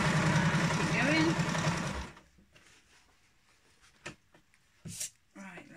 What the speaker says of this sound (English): I'm just going to backstitch a bit just to give it some extra strength.